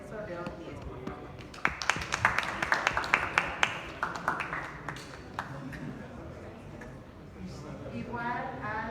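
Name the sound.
audience applause for a speaker at a forum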